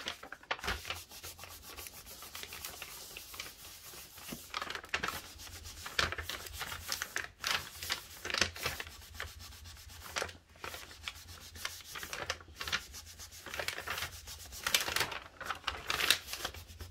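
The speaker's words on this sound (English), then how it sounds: "I'm going to go ahead and burnish it." Polymer clay being burnished by hand, a steady close-up rubbing and scraping with repeated short strokes, fairly quiet and with no talking.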